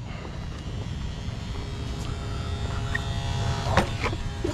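A small motor in a Traxxas XRT RC car with a broken fan blade whirs with a thin, high whine and a rough buzzing rattle, running steadily up close and getting slightly louder toward the end.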